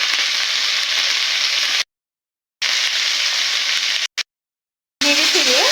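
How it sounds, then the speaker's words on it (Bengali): Potatoes frying in a pan after salt and turmeric powder are added give a steady loud sizzle in several stretches separated by silent gaps, with a voice speaking briefly at the end. "নেড়ে চেড়ে হালকা করে আরেকটু ভেজে নেব।"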